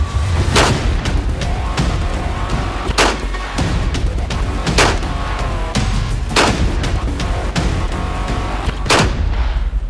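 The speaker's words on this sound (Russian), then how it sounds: "Стреляю 5 патронов." A TN-37 traumatic pistol fires Chase cartridges at about five meters: five loud, sharp shots spaced roughly every one to two seconds, close and dominant over steady background noise.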